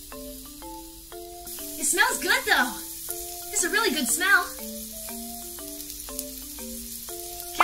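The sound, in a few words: mushrooms sizzling while frying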